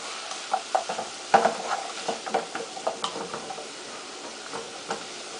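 Onions and carrots sizzle in a pot for a vegetarian split pea soup while a spoon stirs them, giving a steady soft crackle broken by irregular scraping taps against the pot, close and fairly quiet.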